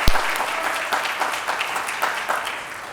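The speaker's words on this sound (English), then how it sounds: "Let's give the entire PN class of 2020 one more round of applause." A crowd applauds graduating practical nursing students at a college pinning ceremony, a steady, even wash of clapping that holds through the clip and slowly eases.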